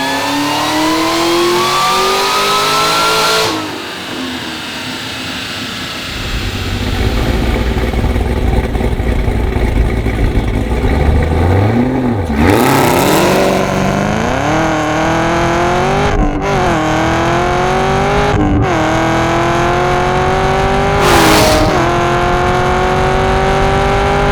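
A Hennessey-tuned Camaro ZL1 Exorcist engine runs loud and close, holding a steady drone before repeated hard revs and sweeping rises and falls in pitch, with sharp bursts of acceleration and no talk.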